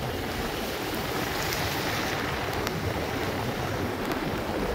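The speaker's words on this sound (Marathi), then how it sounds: "बघा छोटूसा धबधबा." Steady, dense rush of a small waterfall falling close by, constant and unbroken with no voices.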